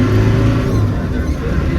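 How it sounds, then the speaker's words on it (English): A 1995 Land Rover Defender 110 with the 300Tdi diesel accelerating in second gear: a loud, steady low engine drone and rumble, heard close and continuous with no talk over it. "let's go ahead and accelerate here in second gear."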